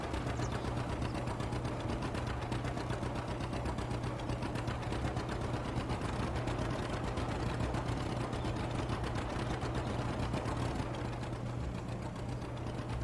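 Farming Simulator 25 tractor engine straining up a hill, a constant heavy drone with fast rhythmic knocking, loud and unbroken throughout, no voices over it.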